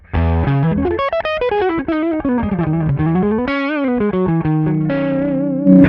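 A distorted electric guitar through a KHDK Annihilator octaver overdrive pedal plays a sliding, singing lead line with a thick octave-doubled tone, continuous and loud, with no talking.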